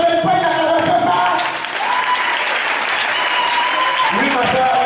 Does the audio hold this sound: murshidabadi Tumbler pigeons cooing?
no